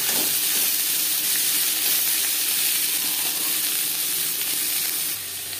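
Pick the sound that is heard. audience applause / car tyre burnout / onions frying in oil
onions frying in oil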